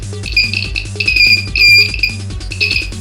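A homemade electronic door alarm beeps shrilly in short repeated bursts over a pulsing low buzz, loud and close, with no talking.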